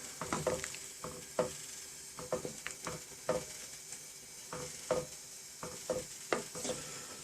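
Marinated meat stirred in a hot pan for hot and sour soup, a steady run of close utensil scrapes and clacks at irregular intervals over a faint sizzle.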